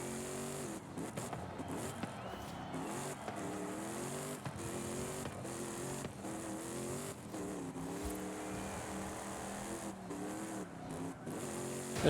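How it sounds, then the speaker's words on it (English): A Ford F-450 Super Duty truck in Forza Horizon 5 drives under engine braking, its engine droning steadily with rising and falling revs, loud and continuous for several seconds with no speech over it. "I'm gonna have to use the engine to brake a lot."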